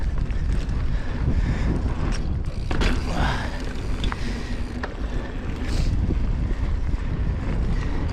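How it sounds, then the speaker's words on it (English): Steady wind buffeting the microphone on a mountain bike trail, a constant low rumble with gusts and a few faint knocks, no clear talking. "Very windy."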